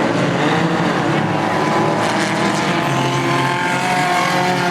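Hornet-class race cars roar around the North Central Speedway oval in a continuous loud drone of engines, with no clear breaks as the pack circles the track.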